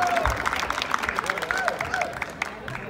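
Rodeo crowd applauding at a charreada tournament at Plaza Dos Hermanos in Kilgore, clapping and cheering mixed with crowd babble and a shouting announcer's voice, steady and fairly close.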